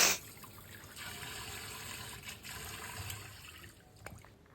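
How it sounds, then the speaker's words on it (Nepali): Fish being washed with alternating hot and cold water, with a steady close trickle and splash of running water that starts with a louder gush and quiets toward the end. "2-3 फेर तातो पानी चिसो पानी गरेर धुँदैछु माछालाई।"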